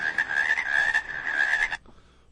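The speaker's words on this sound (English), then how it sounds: "They're just like rabbits, except they're toads, and they have horns, and they make this awful sound." Cane toad croaking in a loud, steady rasping trill that runs for nearly two seconds and then cuts off abruptly, followed by quiet.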